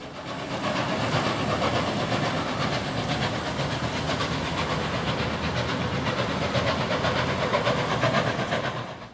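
A steam locomotive hauls its train into Wollongong Station, a steady loud rumble and hiss with rhythmic chuffing and wheel clatter sustained throughout, no voices over it.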